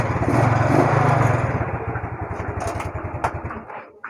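A Yamaha Mio Sporty scooter engine fires up and runs with a fast, even putter close by, the idle easing off and fading toward the end.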